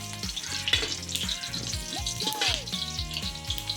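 Crushed ginger sizzles in a hot frying pan while mussels are cooked for dinner, giving a steady, close crackling hiss that runs throughout, with faint tonal sounds in the background.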